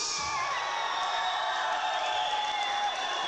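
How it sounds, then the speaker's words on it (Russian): A concert crowd at a Kyrgyz rap show roars with cheering, whoops and applause for the city of Osh, a broad, sustained wash of noise from a large audience. "Итак, наши овации южной столицы Ош!"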